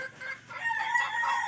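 Chickens in a small 130-square-meter coop give short clucks and calls, moderately close, with no talk over them.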